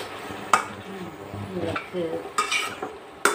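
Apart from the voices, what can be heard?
stir-frying holy basil in a pan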